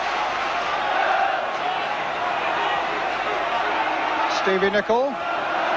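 A football stadium crowd at the Wales v Scotland World Cup qualifier in 1985 murmurs and roars as a broad steady wash of noise beneath continuous commentary, with a brief whistle-like tone near the end.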